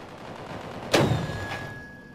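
A mortar artillery tank fires in the Steamcraft video game, a single sharp blast followed by a rumbling tail and a fainter second boom, mid-distance over a quiet background.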